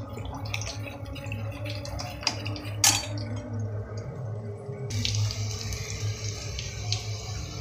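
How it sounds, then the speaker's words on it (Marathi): Water splashes and trickles into a bowl of yogurt and gram flour mixture for kadhi, with faint clinks of a utensil against the dish and a low steady hum in the background. "हे मिश्रण मिक्स करून झाल्यावर थोडंसं पाणी पण ॲड करायचं"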